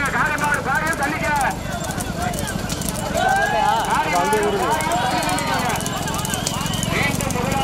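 Bulls charge past during a bull race, with rapid pounding hooves and a rumbling crowd, while someone shouts loudly over the commotion throughout.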